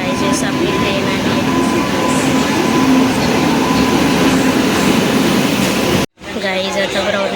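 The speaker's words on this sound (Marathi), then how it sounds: "गाईजेस आपली ट्रेन आली." A train pulls into a Mumbai suburban railway station with a loud, steady rumble and roar of rolling wagons that cuts off abruptly and is followed by quieter platform noise.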